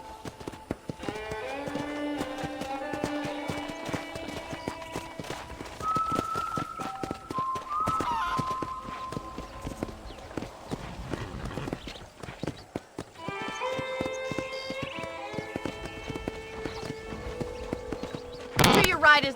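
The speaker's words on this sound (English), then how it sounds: "I picked out a fine horse for you." Horse hooves clip-clopping at a walk in Red Dead Redemption on a ranch property, a steady rhythmic clopping under a musical score, with a sharp burst at the very end.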